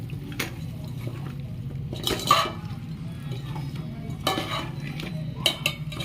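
Drumstick and carrot pieces being stirred in a pan of tempering for sambar, with quiet scraping and clinking of a spoon against the pan in a few separate bursts over a soft background hum.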